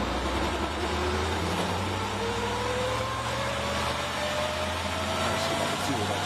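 A TA2 race car's engine runs at speed during a road race, a steady dense roar with rising pitch sweeps as it climbs through gears, heard continuously from a distance with broadcast crowd and track noise underneath.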